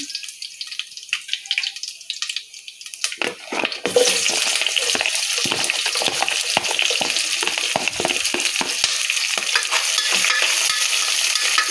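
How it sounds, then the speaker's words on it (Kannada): Onions dropped into hot oil for Ambur-style chicken biryani, starting with a quiet stir and then bursting into a loud, steady close sizzle that continues to the end, with no talking. "ಎಣ್ಣೆ ಕಾದಿದೆ ಈಗ ಈರುಳ್ಳಿ ಹಾಕ್ಕೊತಾ ಇದ್ದೀನಿ"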